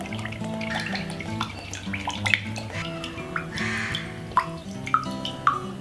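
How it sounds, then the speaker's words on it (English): Coconut water trickling and dripping close by from a pierced eye of the coconut, a gurgling stream with scattered distinct drops, over a faint background hum. "And now the water can come out of this eye."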